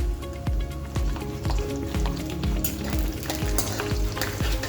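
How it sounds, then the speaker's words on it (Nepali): Whole spices sizzle and crackle in hot oil at the start of a home-cooked biryani, a steady close frying hiss broken by regular stirring scrapes and soft pan knocks, with no talking. "अब राखिदिन्छु खडा मसला।"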